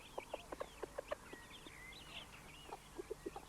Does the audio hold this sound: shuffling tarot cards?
no